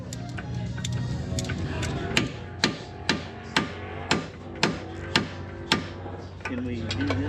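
Steady metallic hammer strikes ring out one after another at an even pace, about ten blows over a constant low mechanical hum, during racecar preparation.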